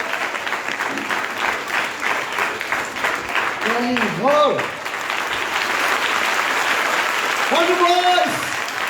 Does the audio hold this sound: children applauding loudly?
yes